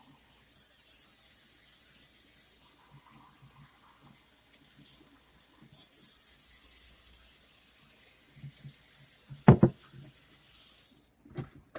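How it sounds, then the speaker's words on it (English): Tap water running into a container with two tablespoons of baking soda for a homemade air freshener, heard in a few separate hissing bursts, with a clatter near the end and no talk. "We're going to fill it up with some water."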